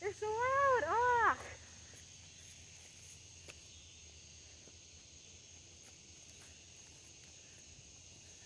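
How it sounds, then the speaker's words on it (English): A steady high-pitched cricket drone hums continuously in the background near Athens, faint but constant, after a short spoken phrase at the start. "the crickets are so annoying too. Oh my god. They're so loud."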